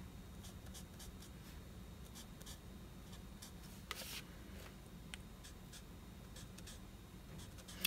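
A pencil colors in leaves on a handmade birthday card: quick, rhythmic scratchy strokes repeat steadily, close and quiet, with no talking.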